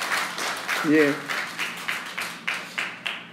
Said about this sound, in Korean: 다시 한번 박수를 우리 보냅시다.